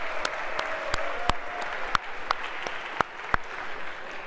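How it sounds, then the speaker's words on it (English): A small university lecture audience gives scattered applause for a quiz winner, a handful of sharp, distinct claps spaced irregularly over a quiet room hum. "A big round of applause for our guest."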